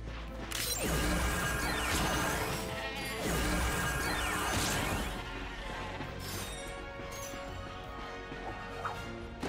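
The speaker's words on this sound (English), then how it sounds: "Ratchet smashed his enemies using his trusty Omni Wrench." Ratchet swings his Omni Wrench in Ratchet & Clank, smashing enemies and crates with loud, repeated metallic crashes and thwacks over dense game music and effects, no talking.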